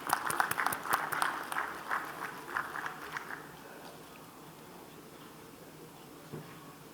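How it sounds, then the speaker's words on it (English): Applause from an audience at the STOCKTECH Gujarat stock-market conference in Ahmedabad rings out for a few seconds, then quickly thins and fades into a quiet, murmuring hall. "Can we have a big round of applause for them"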